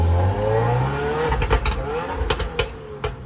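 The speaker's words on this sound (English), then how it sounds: "Like you just rev up, it goes boop, boop, boop, boop, boop." A 2021 Subaru WRX with stock mufflers revs its engine in a loud, near rumble. Its exhaust then gives a quick series of sharp pops and crackles as the revs fall.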